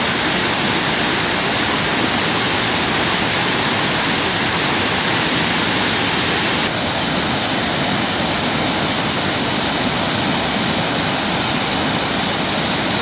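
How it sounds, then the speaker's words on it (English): Water gushing from the opened spillway shutters of the Mullaperiyar dam, a loud, continuous, dense roar of rushing water with no letup. "Currently, 534 cubic feet of water is discharged."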